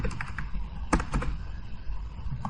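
Fingers tap on a computer keyboard while editing a Word document, giving quick bursts of close, crisp key clicks with short pauses between them.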